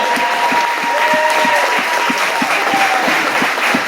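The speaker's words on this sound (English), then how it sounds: "Can we get an applaud for her?" A comedy-club audience at a stand-up set applauds a registered nurse in the crowd, with a loud, sustained wash of clapping and a faint whistle-like tone riding over it.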